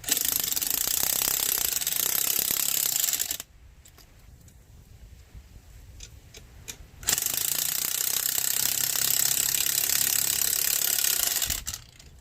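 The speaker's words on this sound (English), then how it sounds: "put it on my impact driver. Okay, I'm gonna go ahead and tighten it so that compresses the spring" An impact driver tightens a coilover spring compressor on a 2003 Corolla in two long, loud, close bursts of rapid mechanical hammering, with a quieter pause of rattling handling between them.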